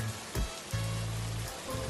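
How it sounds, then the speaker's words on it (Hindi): Rain falls steadily at a railway station, a soft hiss and patter on surfaces with a low droning hum beneath, no voices and no clear thunder. "बारिश हो रही है। बादलों के गरजने की आवाज आ रही है।"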